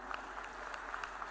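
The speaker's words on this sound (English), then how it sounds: "let the claps keep rolling, ladies and gentlemen, come on" Audience applause at the Bio Asia 2025 inauguration award ceremony, a steady wash of many hands clapping together in a large hall, continuous and moderately loud with scattered sharper claps standing out.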